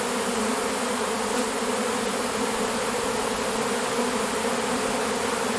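A large honey bee swarm buzzes in front of a hive, a dense, loud, unbroken drone of countless wings that holds steady from start to finish.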